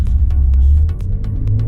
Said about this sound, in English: Not sure if you hear the exhaust clearer now